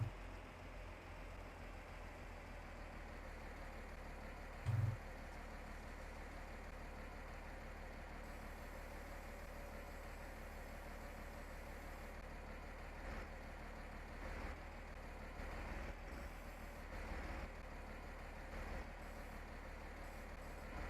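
A Case tractor idles steadily in Farming Simulator 19, a low, even engine drone that holds throughout at a quiet level with a few faint clicks and bumps on top.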